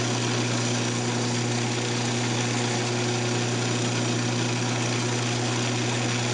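A wood lathe spins a natural-edge wooden candy dish during sanding, a loud, constant motor hum with a steady droning tone and no pauses.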